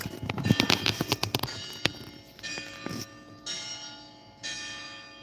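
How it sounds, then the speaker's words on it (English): A church bell at a Catholic church in the Dominican Republic rings out in a quick run of bright, clanging strokes, then several slower strikes that linger and decay into the open air. "That is the church bell right there."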